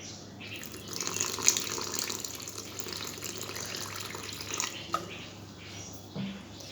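Spice paste with salt, for coating banana flower, is mixed by hand with a little water, giving a soft, continuous wet squishing and sloshing close by.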